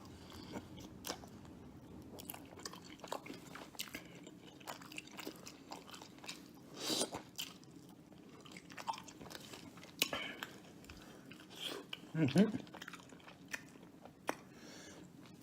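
Someone chews deep-fried Pizza Hut buffalo wings coated in hot sauce, close up, with soft irregular crunchy bites and mouth sounds throughout and a louder crunch burst near the end, without any talk.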